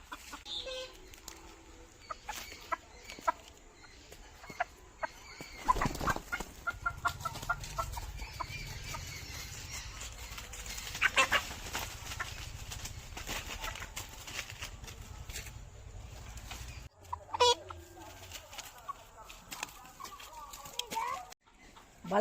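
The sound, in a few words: live poultry chicken clucking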